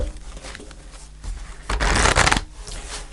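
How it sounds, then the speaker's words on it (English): Tarot cards riffled and shuffled close by, a rapid papery flutter that swells into a louder burst near the middle before settling back down. "I'll do one more shuffle."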